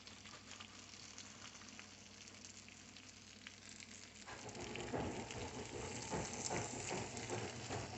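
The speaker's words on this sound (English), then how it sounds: "I've got my pepperonis just kind of crisping up, making them a little bit more interesting." Pepperoni slices crisp up in a hot pan for a low-carb tortilla breakfast pizza, giving a steady close sizzle and crackle that grows louder and busier partway through, with no talking.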